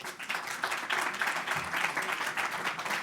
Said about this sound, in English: please, round of applause for Alex.